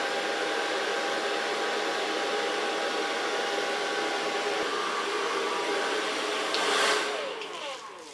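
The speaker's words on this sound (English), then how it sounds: "So far blow drying" A hair dryer blows with a continuous loud whir, then its pitch rises briefly near the end before it quiets a little.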